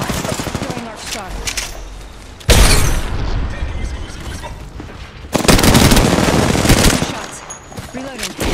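Automatic weapons fire rapidly in the game Apex Legends, giving dense rattling bursts with booming impacts. The firing surges loudly twice, with a voice heard faintly in the mix.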